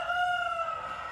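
A rooster crows nearby in a single loud, sustained call with a clear, steady pitch that fades slightly toward the end.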